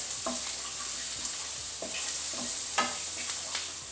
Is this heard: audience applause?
no